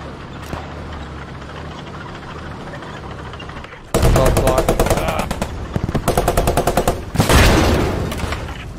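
A tank's machine gun in a D-Day armoured-support video game opens fire on bushes after a quieter lull, hammering out loud, rapid bursts with a brief gap before a final heavy volley.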